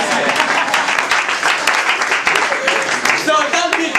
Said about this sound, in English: Can you clap your hand again?